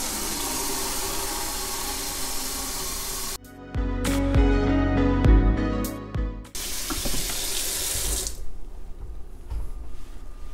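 Tap water runs hard into a container for chemical dilution, a loud steady rush that stops briefly while clunks and handling sounds take over, then the flow resumes before cutting off.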